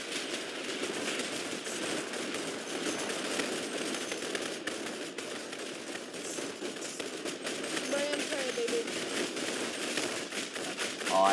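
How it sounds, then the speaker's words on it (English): Rapid automatic gunfire from shooting vultures in the Roblox game Blackout, a dense continuous rattle of shots running the whole stretch at steady loudness, with no clear pauses. "I just shot a couple of vultures that got in the way"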